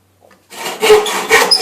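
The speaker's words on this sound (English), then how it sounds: "Now I'm going to cut across and across to eliminate this scrap plywood here." A handsaw cuts across scrap plywood up close, with loud rasping strokes starting after a brief pause and continuing in a quick back-and-forth rhythm.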